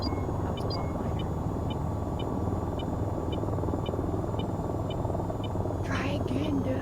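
A video game helicopter drones steadily with a dense low rotor rumble and a faint regular ticking pulse on top, constant throughout, while a voice speaks over it near the end.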